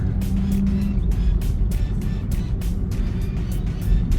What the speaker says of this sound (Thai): น้องก็ปล่อยรถไหลอย่างเดียวเลยค่ะ ไม่ได้เหยียบเบรกไม่ได้เหยียบคันเร่ง